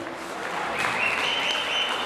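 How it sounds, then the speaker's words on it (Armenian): A hall full of guests at an evening celebration claps loudly, a dense, steady burst of applause that swells and holds, with no talk over it. "բարձր ծափարենք և դիմավորենք"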